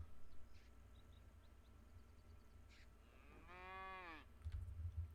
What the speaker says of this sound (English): We're getting a nice herd of cattle now.